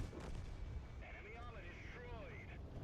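Tank gunfire in the World of Tanks game: a continuous low booming rumble from battle with muffled cannon blasts, overlaid by whistling, warbling tones, fairly loud and steady throughout.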